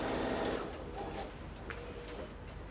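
A sewing machine runs quietly with a steady mechanical whir and needle patter, fairly faint and continuous for a few seconds.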